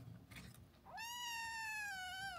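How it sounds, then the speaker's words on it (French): Young kittens meow indoors, a faint rustle followed by one long, loud, drawn-out mew that rings on close to the listener, with no talking. "Je peux pas faire ma vidéo tranquille ici parce qu'ils sont en train de miauler là tout le temps."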